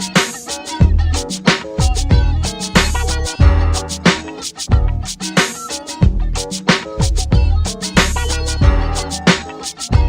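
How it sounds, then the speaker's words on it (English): A doorbell plays as a loud, busy musical tune with punchy beats and bright repeated chime-like notes, looping steadily throughout without talking. "my doorbell sounds like"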